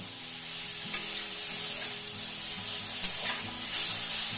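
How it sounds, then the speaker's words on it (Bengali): Broccoli stir-fried with spice masala in a pan, a steady close sizzle with scraping stirring strokes throughout, a few sharper clinks standing out. "জাস্ট একটুখানি ফ্রাই করে নেব, মানে আবার মশলার সঙ্গে দিয়ে কষাতে হবে"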